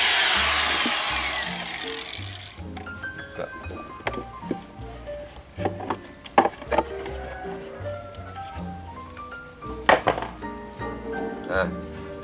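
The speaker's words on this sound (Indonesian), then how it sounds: "Kita buka dengan batu gerinda." Grinding disc cutting open a pipe during wastewater treatment unit construction, an opening burst of high whine followed by irregular knocks, scrapes and short mechanical bursts, fairly loud and close.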